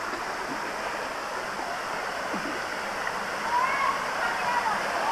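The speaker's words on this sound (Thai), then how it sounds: "นี่ครับน้ำตกไหลลงมา" The Lan Rak waterfall in Nakhon Nayok, Thailand roars in a steady, broad rush of falling water, loud and close, with faint voices now and then.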